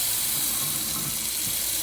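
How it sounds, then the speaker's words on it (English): Tap water pours steadily into a stoppered kitchen sink holding freshly harvested green beans, a close, even rushing hiss with no talk. "and then just gonna run in some water"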